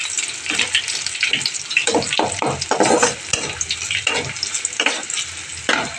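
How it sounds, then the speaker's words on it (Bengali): Chopped garlic dropped into hot oil with mustard seed tempering, frying with a steady close sizzle broken by several sharp bursts of stirring and spattering over about six seconds. "সর্ষে ফোড়ন দিয়ে দিয়েছি এবার আমি রসুন কাটা দিয়ে দেবো"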